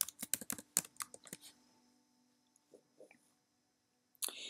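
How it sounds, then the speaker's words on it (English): Quick bursts of typing on a computer keyboard while entering text in a design program, a rapid cluster of close clicks followed by a pause and a few scattered keystrokes, then one more short burst. "then we're going to type Barry using all caps"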